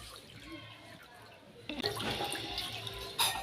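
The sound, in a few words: water dripping from washed pumpkin leaves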